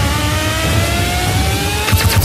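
An Audi R18 e-tron race car from the 2013 24 Hours of Le Mans roars loud and steady, its engine note sustained throughout with a rising whine and a brief rougher flutter near the end.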